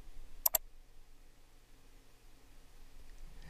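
A quick double mouse click, two crisp faint ticks close together, as the Save button is pressed in Zoom, followed by near silence.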